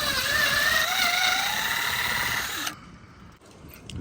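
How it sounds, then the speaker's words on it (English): A power drill boring holes into the front bumper of a C5 Corvette for splitter rivets, a loud sustained whine with a slowly rising pitch for about two and a half seconds, then stopping abruptly into quiet. "So I'm just gonna start honestly drilling in the front bumper."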